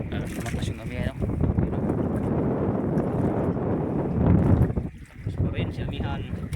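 Strong amihan northeast monsoon wind buffeting the microphone at sea, a loud continuous roar with gusts and splashing, while people talk over it.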